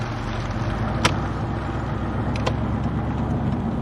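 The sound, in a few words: car driving at night on country roads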